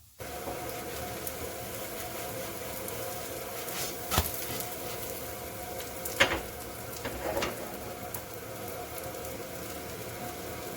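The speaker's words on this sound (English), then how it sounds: "Now that we've flipped it, we are just going to leave it to brown on the other side as well." A hash brown fries in a pan, a steady broadband sizzle running throughout at moderate level, with a few brief louder crackles and pops partway through, no voices.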